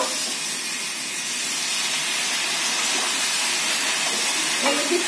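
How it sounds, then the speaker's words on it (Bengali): Spices sizzling in hot oil while tangra fish cooks in a pan, a steady, close hiss throughout with no speech. "মশলাটা দিয়ে আবার একটু কষাবো।"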